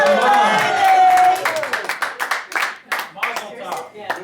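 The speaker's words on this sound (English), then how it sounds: "Big round of applause." A small group claps at a 99th birthday party after a voice sings a drawn-out note, then scattered irregular handclaps close by with a few voices calling out.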